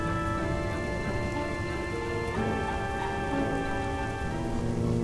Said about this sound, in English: I love that this rain effect is